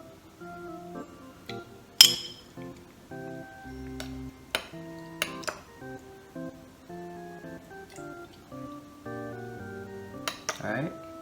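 Boba tapioca pearls spooned into a glass, a sharp clink at the start, then scattered lighter taps and clinks of spoon on glass with occasional talk between them.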